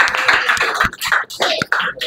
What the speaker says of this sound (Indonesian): kita tepuk tangan dulu ya untuk menyemangati diri kita